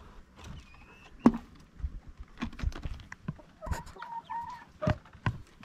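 Chickens, RTL hens kept in a rural yard, cluck in short, scattered bursts close by, with a few sharper calls standing out over light background noise.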